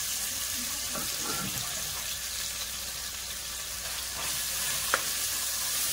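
Marinated mutton fries in hot oil with a continuous sizzle and watery hiss, close and moderately loud, broken by a few soft stirring scrapes and one sharp clink near the end.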